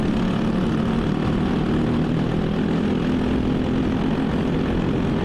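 Senior Briggs racing karts at a regional karting event, over forty entries starting a heat: a dense, steady, loud engine roar with a constant buzzing drone, uninterrupted for the whole stretch.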